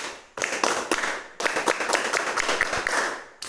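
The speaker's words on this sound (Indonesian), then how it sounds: "1 kali tepuk pramuka" A classroom of students does the Indonesian scout clap, tepuk pramuka, in one round of sharp, rhythmic group claps. The claps are fairly loud and close, with no talking over them.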